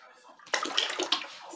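Liquid caustic soda is poured out for making homemade soap from used cooking oil. After a quiet start, a splashing, gurgling pour begins partway through and continues close by with uneven surges.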